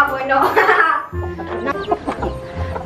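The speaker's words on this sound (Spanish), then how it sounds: "No sé si son gallinas, pollos de estos o no sé." Chickens cluck loudly and close by inside a coop, with scattered squawks and clucks over about three seconds, partly mixed with voices nearby.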